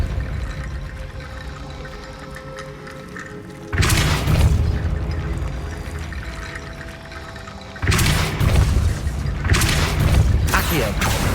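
Depulso spell cast in Hogwarts Legacy, a loud sudden booming blast with a rushing whoosh that lingers, repeated twice over a background game soundscape.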